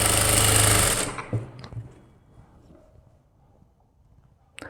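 A sewing machine stitching a blouse neckline runs loud and steady for about a second, then stops, leaving faint handling noises and a brief click at the end.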